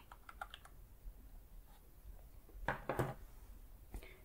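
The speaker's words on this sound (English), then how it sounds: "Pressing the keys feels pretty comfortable. Feels very natural. I love how it clicks into position." Keys clicking on a macro keypad, a light scatter of soft taps followed by a few sharper, louder clicks close up in a quiet room, with no talking.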